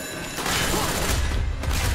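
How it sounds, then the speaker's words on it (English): Frag grenade blast and gunfire in Call of Duty: Black Ops, on the Veteran-difficulty "Redemption" mission, heard as a dense burst of explosive rumble and rapid shots filling the whole moment at steady, loud level. "Tossing a frag!"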